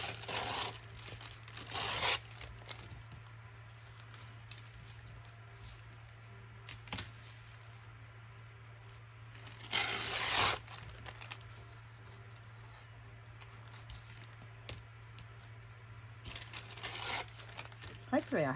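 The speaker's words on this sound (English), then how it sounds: "I'm just going to tear. This is on the thicker paper, so it was more like a butcher's sort of paper." Thick butcher-style paper torn by hand in a few sharp ripping bursts spaced through the clip, close and loud against a quiet room hum, with a person talking in between.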